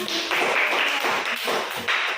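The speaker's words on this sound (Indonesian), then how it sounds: "Oke, tepuk tangan." Students in a classroom clapping together, a dense burst of hand claps with a few swells, moderately loud and without talk.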